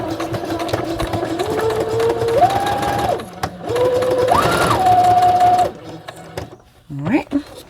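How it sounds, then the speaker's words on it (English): A sewing machine stitches around a fabric greeting card, its motor whirring loudly close by and rising and falling in pitch in bursts as the speed changes, then stopping near the end. "I'm just going to line it up and just sew around it."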